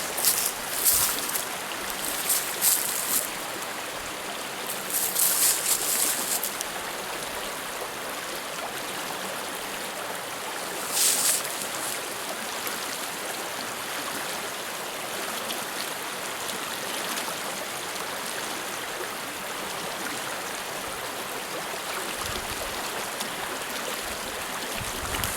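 Mountain trout stream pouring over a rock into a deep hole, a steady broadband rushing and gurgling of water close by, continuous throughout with brief brighter splashy bursts.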